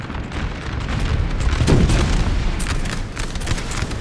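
Cannon fire in Napoleon Total War during the 1814 Battle of the Mincio River, with repeated booming shots and crackling musketry merging into a loud, continuous battlefield din and no speech.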